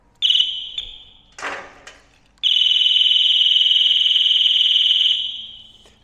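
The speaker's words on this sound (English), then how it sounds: "Alarm goes off. Damn it, that's quite loud." A Ducati motorcycle's faulty alarm sounds a loud, steady high-pitched electronic tone continuously for several seconds before fading, preceded by a few short beeps and some handling thumps.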